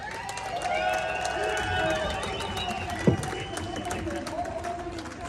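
Crowd at a street protest rally in Waterford, Ireland, applauding and cheering under a continuous noisy outdoor wash, fairly distant, with a brief whistle or shout midway.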